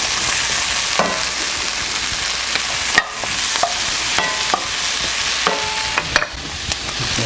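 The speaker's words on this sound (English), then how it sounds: "We'll go ahead and throw our mushrooms in here." Mushrooms sizzle in a hot frying pan, making a loud, bright, continuous hiss broken by a few clinks and scrapes of a stirring utensil.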